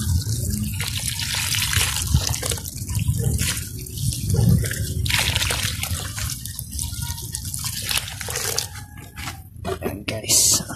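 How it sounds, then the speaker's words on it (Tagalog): Water poured into a plastic bucket of finely crushed charcoal, a steady splashing trickle lasting several seconds with brief pauses, fairly close and moderately quiet. "Saka po natin lagyan ng tubig."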